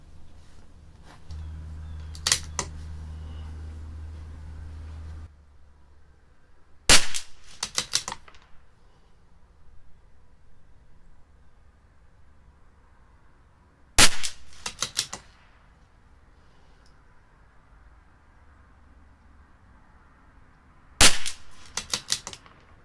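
A CZ 457 LRP rifle firing Eley Tenex rimfire ammunition cracks out four sharp, well-spaced shots, each a short loud report with a brief echo, separated by quiet pauses.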